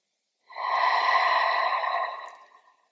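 A single slow, steady exhale during yoga breathing, a soft airy breath lasting about two seconds close to the ear and fading out gently, alone in silence.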